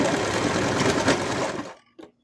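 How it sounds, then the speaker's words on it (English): A sewing machine runs steadily while stitching the seam of a Cthulhu plush's wings close to the fabric edge. The dense motor whir holds for about a second and a half, then stops abruptly, leaving a short faint clunk. "I'm going to sew it pretty close to the edge"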